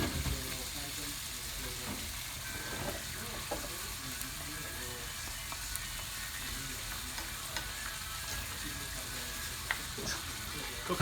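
Beef for quesadillas sizzles and fries steadily in a pan, a continuous close crackle with occasional stirring scrapes and faint background voices.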